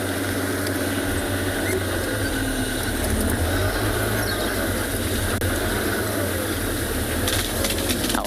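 A safari vehicle's engine idles steadily throughout a sunset game drive, a constant low rumble filling the background with no speech.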